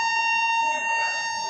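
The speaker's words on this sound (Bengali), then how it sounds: "আর এখন আমাদের ট্রেন এই হর্ন দিতে দিতে এখন ঢুকছে" A long, steady, loud horn blast sounds from the Poorva Express as it pulls into the station at night, a single sustained tone that stays level from start to finish.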